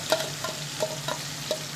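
Chicken fry pieces sizzling in hot oil in a pan, a steady close crackle with occasional louder pops and stirring clinks, no talk.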